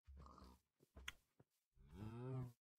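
Cows moo in a farming video game, several separate low calls, the last one long and drawn out, heard close and clear against a quiet background with nobody talking.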